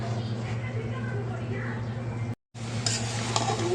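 Drumstick curry being stirred in a pan, a constant sizzle with scraping spoon strokes and light metallic clinks, broken by a short gap, close by with a voice talking over it.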